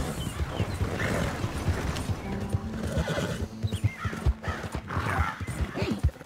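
A horse gallops with steady clip-clop hoofbeats in the video game Red Dead Redemption 2, with whinnies and neighs mixed in, under a game soundtrack and someone talking over it.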